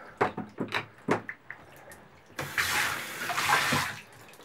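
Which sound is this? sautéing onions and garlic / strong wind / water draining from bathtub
water draining from bathtub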